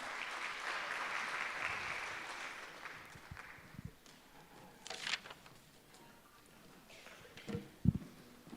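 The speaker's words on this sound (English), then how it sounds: "Clap for him as he comes." Sustained audience applause at a national economics debate welcoming a chairperson to the stage, dense clapping for the first few seconds, then thinning into scattered claps with a few louder isolated claps near the end.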